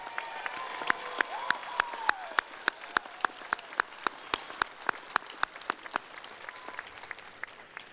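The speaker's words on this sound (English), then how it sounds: "Round of applause, please." Steady applause from a large crowd at a university graduation ceremony, with a dense rolling wash of clapping and sharp individual claps cutting through over several seconds.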